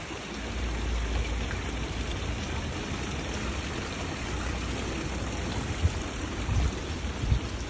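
Water flowing at the Gran Fonte fountain in Leonforte, Sicily, a steady close rush with a few small splashes and knocks near the end, heard alone with no voices.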